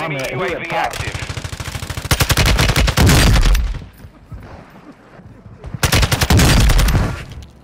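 Gunfire in Call of Duty: Modern Warfare II: loud, rapid automatic bursts come in two main volleys with heavy low-end rumble, separated by a quieter gap of battle noise.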